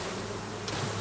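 Honeybees buzzing in a dense, steady drone as they are shaken off a hive frame during a swarm-prevention inspection before honey extraction, fairly close, with a brief brighter rustle near the end.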